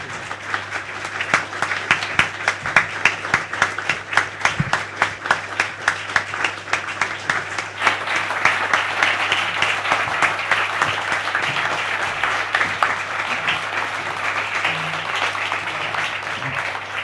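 Audience applause at a Hong Kong Foreign Correspondents' Club luncheon welcoming Philip Bowering and independent stock commentator David Webb, with dense, steady clapping from a large room that holds for the full stretch, first crisp and rhythmic, then a fuller, blended roar.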